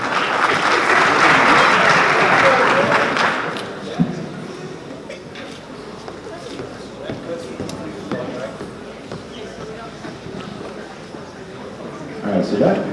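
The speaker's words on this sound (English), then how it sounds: "Let's go ahead and give them one more round of applause." An audience at a school awards assembly applauds in a loud, dense burst of clapping that fades into scattered claps, then a short fresh round rises near the end, with some talk in between.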